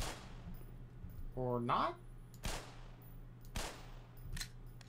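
Gunfire in the video game Black Mesa: sharp broadband shots at a few spaced moments, one cluster and two later cracks, under a brief spoken line and a rising tonal effect.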